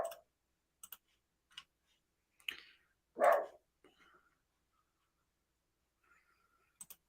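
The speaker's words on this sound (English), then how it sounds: "And now she wants to make noise again. She is a lovely dog" A female dog gives one loud, close bark among scattered faint clicks and taps in a quiet indoor room. Softer yips come just before the bark, with no speech.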